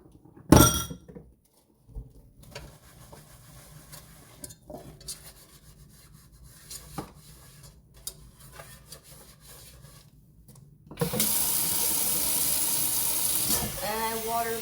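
A non-stick pan is scrubbed at a kitchen sink with soft, intermittent rubbing and clinks, then a loud steady rush of tap water rinses it near the end, with brief talk in between.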